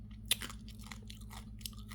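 Crunchy fried food, dipped in sauce, being chewed up close: a few crisp bites and softer chewing over a steady low hum, with no talking.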